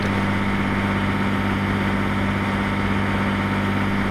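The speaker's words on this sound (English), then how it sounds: "Now idling the power at 35 miles per hour" A steady, continuous low engine drone of a diesel train idling at power in Train Simulator 2015 on the Liverpool to Manchester express route, even and unbroken with a constant hum and no talk.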